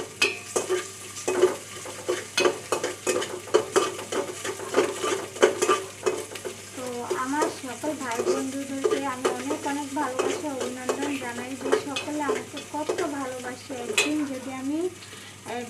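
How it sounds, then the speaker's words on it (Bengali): Garlic and ginger paste frying in oil, a steady close sizzle with repeated rhythmic scrapes of a stirring spoon across the pan. "আগে রসুন আদা বাটা রসুন বাটা এবং সব কিছু আইটেম আগে ভালো করে তেলে একটু ভেজে নিই"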